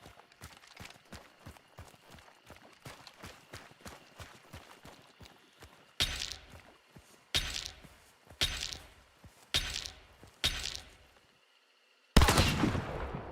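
A shotgun fires in Hunt: Showdown. About six loud, separate blasts are spaced a second or two apart, and a final shot rings out after a short silence. Before them comes a rapid run of lighter footfall-like thuds.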